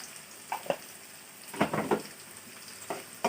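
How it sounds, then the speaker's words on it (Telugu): Onions frying in oil in a pan for a pudina chicken dish, with a soft steady sizzle broken by a few brief louder crackles and stirring bursts, heard close and without talk. "ఆనియన్స్ బాగా వేగనిద్దాము"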